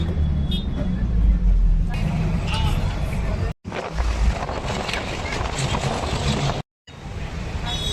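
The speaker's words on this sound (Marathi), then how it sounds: "आता मी बसमध्ये बसले बघा आणि आता आपला बसचा प्रवास सुरुवात होईल." Steady low rumble of a passenger bus engine and road noise heard from inside as the ride gets under way, with wind buffeting and two brief dropouts.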